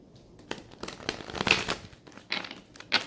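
Oracle cards are shuffled by hand in a series of quick papery riffles and crinkly bursts, close and fairly quiet, with short pauses between the shuffles.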